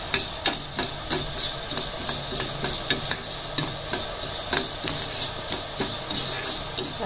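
Horse gram dry-roasting slowly in a pan over low heat, with a steady rhythmic clatter and scrape as the seeds are stirred against the metal, close and even throughout.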